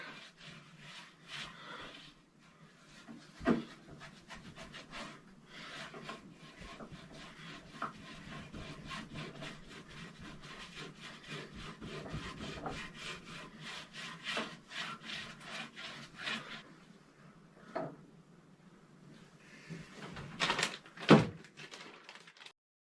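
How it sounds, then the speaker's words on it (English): Linseed oil and beeswax wax rubbed by hand into a wooden cutting board, giving quiet, repeated rubbing and scuffing strokes over about twenty seconds, with a few sharper knocks near the end. "And we're going to rub it in."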